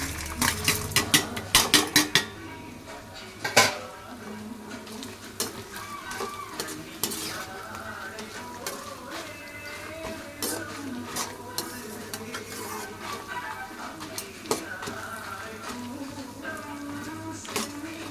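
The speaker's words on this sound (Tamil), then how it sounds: "நெக்ஸ்ட்டு புளியும் மிளகு ஜீரகமும் ஒன்றா ஆட் பண்ணி போகிறோம்." Tamarind, pepper and cumin sautéed in a pan: a burst of metal clinks and scraping at first, then a soft ongoing sizzle with occasional spoon knocks and stirring scrapes against the pan.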